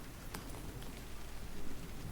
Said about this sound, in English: the rain seemed to get stronger